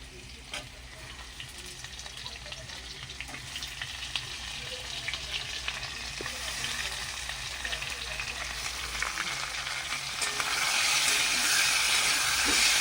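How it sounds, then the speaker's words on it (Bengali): Potatoes frying in a pan for a potato and fish curry, a steady dense sizzle throughout that swells louder near the end, with occasional clinks of a spatula and no voice. "দেখুন আমার আলুটা প্রায় ভাজা হয়ে গেছে আর একটু ভাজা হবে"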